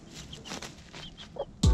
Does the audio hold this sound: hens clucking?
yes